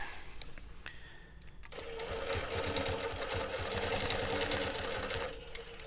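A longarm quilting machine stitches ruler work outlining applique shapes, a steady close mechanical whir with rapid needle rhythm that starts after a quieter moment and runs evenly to the end.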